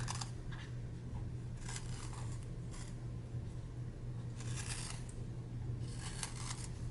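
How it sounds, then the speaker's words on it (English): Faint, scratchy grinding bursts from a small pencil sharpener sharpening wax-based artist-grade colored pencils come and go in short spurts over a steady low hum. "they sharpened very nicely in this pencil sharpener"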